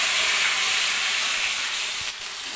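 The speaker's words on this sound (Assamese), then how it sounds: "তেলখিনি দি গৰম কৰি ল'লোঁ এতিয়া মই আদা ৰচুন পেষ্টটো দি দিছোঁ" Ginger garlic paste sizzles in hot oil with a continuous, loud, bright hiss that holds steady and fades slightly at the end.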